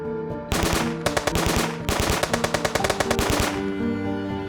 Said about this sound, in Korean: 이곳에선 쉴 새 없이 총소리가 울려 퍼졌습니다.